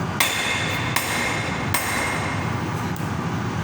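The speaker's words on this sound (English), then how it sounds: "the tapering operation is performed by using tongs and hammer" Hammer strikes tapering a hot square-section nail held in tongs on an anvil during a forging demonstration: three sharp, ringing metallic blows about a second apart over steady background hum, with a fainter fourth tap near the end.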